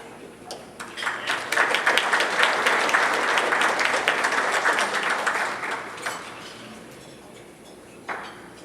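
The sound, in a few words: applause for sponsors at a luncheon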